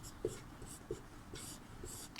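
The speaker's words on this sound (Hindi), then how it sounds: "अब यहाँ पर अर्थ हम लोग लिखेंगे।" Pen strokes scratch softly on paper during a Sanskrit lesson, with faint short bursts of writing and a couple of small taps under quiet room noise.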